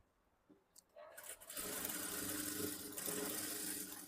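A sewing machine stitches the front part of a blouse: after a second of quiet handling and light clicks, its motor runs as a loud, steady, continuous whir to the end.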